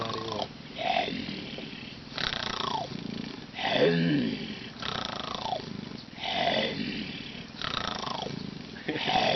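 A man imitates a tiger roar with his voice, giving a series of about six deep, growling roars in a steady rhythm, each rising then fading, close and loud, with no other talk.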